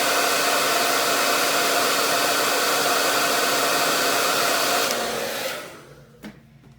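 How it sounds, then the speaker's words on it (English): A hair dryer roars steadily at close range for several seconds, drying watercolor paint, then switches off and winds down, leaving near silence with a faint click. "I'm gonna hit this with the blow dryer just in case"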